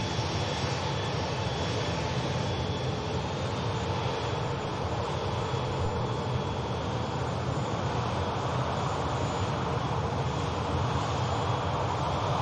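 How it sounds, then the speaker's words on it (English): An EasyJet Airbus A320 arriving from Amsterdam at Manchester Airport produces a constant, dense engine rumble and whine, unbroken throughout and heard alone without talk. "EasyJet A320 arriving in from Amsterdam, taking just 58 minutes to arrive with us"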